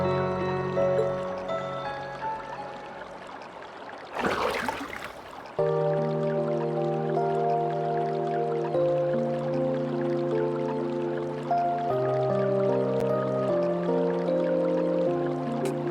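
A brief burst of splashing water in a hot spring bath in the video game Trails of Cold Steel 2, lasting about a second and set against steady, sustained game music.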